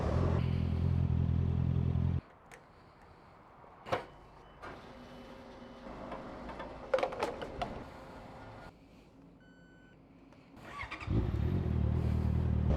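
A Honda CBR motorcycle's engine roars loud and close, drops away to a quiet stretch with scattered clatter and faint mechanical noise, then the engine surges back up to full volume.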